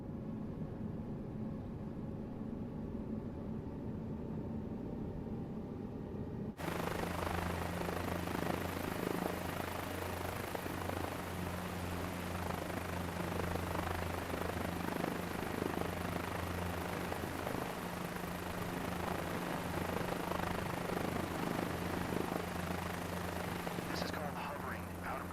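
A helicopter in Microsoft Flight Simulator 2024 hovers at zero airspeed, its rotor and engine drone a constant loud roar with humming harmonics, swelling after a quieter opening stretch, with a voice talking over it.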